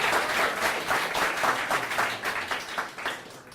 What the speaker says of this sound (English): a big round of applause for Trevor